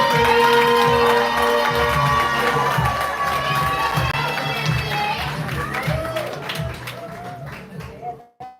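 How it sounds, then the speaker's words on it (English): A live poetry show audience claps and cheers for a poet, loud crowd whoops and shouts over rhythmic clapping, with voices rising above it before the noise drops off sharply at the end. "I need y'all to put y'all hands together. I need y'all already clapping."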